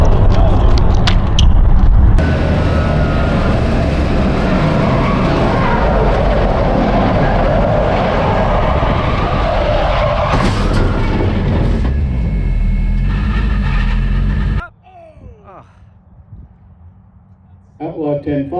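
At a drag racing qualifying session, a race car spins out at about 135 mph with a loud roaring engine and tire noise. The roar cuts off abruptly near the end, and excited voices shout over it.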